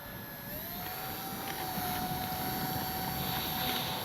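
FMS Cessna 182 Skylane RC model airplane flying outdoors, a steady whining electric motor drone with a slowly gliding pitch, fairly consistent in loudness over a windy background, no talking.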